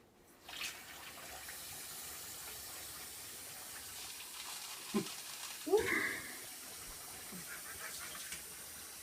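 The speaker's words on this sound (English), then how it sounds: "I'm going to fill it up with some water." Tap water running into a microwave mac and cheese cup in a kitchen, a faint steady stream that goes on throughout with a few brief clunks and splashes partway through.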